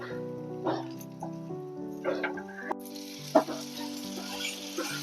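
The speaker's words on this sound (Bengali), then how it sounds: "বাকি যেটা আছে সেটা আমি এখানেই ভেজে নেব" Chicken pieces for Korean-style chicken frying in a pan, a steady close sizzle with a few sharper crackles and pops, alone without talk.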